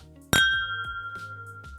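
Drinking glasses clink once in a toast over Loch Lomond 18 whisky, a bright close ring that decays slowly and shimmers, with light background movement.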